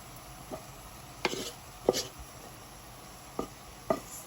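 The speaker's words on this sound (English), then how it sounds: "Now I'm going to toss the rice into the veggies." Cooked rice is tossed into stir-fried vegetables in a pan for Nigerian fried rice, heard as a handful of soft, scattered spatula clacks and scrapes over a quiet background.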